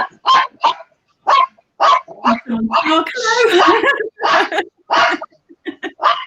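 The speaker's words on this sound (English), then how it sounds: "The dog wants to get in by the sounds of it." A dog barks repeatedly in sharp, insistent bursts, with some whining yips mixed in, fairly loud and close, while a person briefly speaks between barks.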